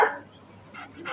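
A dog gives one sharp bark followed by a couple of softer yips in a jewelry company's rakhi advertisement, close and fairly quiet.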